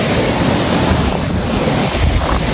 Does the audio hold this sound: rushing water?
yes